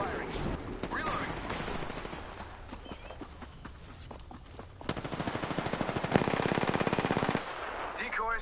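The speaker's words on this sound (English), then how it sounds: "Yeah, I'm getting shot at." Rapid automatic gunfire in a video game shooter, loud bursts of evenly spaced shots with a dense rattling rhythm, strongest near the end, over other game effects and background noise.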